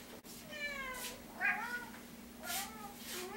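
Cats meow three times, short, clear and close, separated by brief pauses against a faint, steady background hum.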